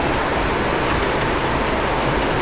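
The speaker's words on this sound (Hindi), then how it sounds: "यहाँ पे जोर की बारिश हो रही है" Heavy rain pours down steadily in the hills at Guptkashi under thick cloud, a dense and continuous wash of noise with no voices.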